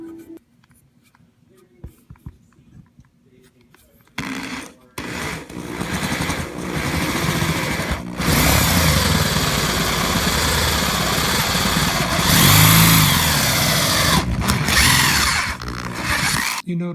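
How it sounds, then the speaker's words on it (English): Electric drill boring a pilot hole in wood for a pickup installation: after a few quiet knocks, a loud, steady whirring grind runs close for most of the stretch, with short pauses and changes in pitch. "when drilling the hole, you don't want the drill to be going rocket fast, but you don't want it to go slow either"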